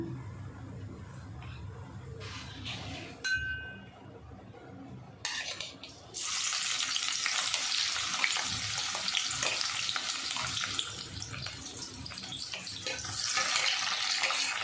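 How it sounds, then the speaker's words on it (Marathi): After a few clinks and a brief running-water sound, a loud, steady sizzle of onion frying in hot oil continues to the end. "तेल गरम झालं आहे आता आता ह्याच्यात आपण पहिल्यांदा कांदा टाकून घेऊया"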